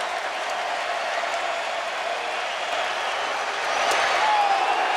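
A big baseball stadium crowd at a Yankees vs Cleveland playoff game applauds and cheers in a steady, dense wash of sound that swells slightly near the end.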